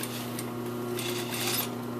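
Sewing machine stitching a fly zipper on a garment, a steady, fast mechanical whirr with a regular clicking rhythm, fairly quiet and continuous with no talking.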